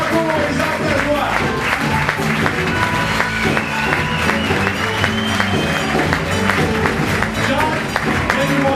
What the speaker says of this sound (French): Mesdames, Messieurs, Luc Vaillancourt et Jacques Lajoie sont ici. On les applaudit.